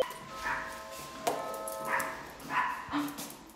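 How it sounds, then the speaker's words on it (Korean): Pet dog barking indoors, a handful of short yaps spaced across a few seconds, moderately near over a steady noisy background. "짖는다."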